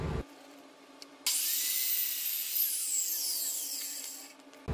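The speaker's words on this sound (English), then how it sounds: "all we need to do now is drill four holes for each of these casters and screw them in" A power drill bores holes in a telescope base for mounting casters, starting after a quiet pause and giving a steady, high-pitched whine for about three seconds before cutting off.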